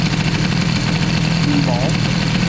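A scooter engine fitted with an Airsal XT 77 kit idles close by, a loud, steady, buzzing drone with a faint voice briefly underneath.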